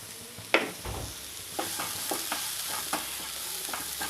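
Vegetables for spicy egg fried rice sizzle in a pan while a spoon stirs them, with repeated scraping strokes over a steady hiss of frying.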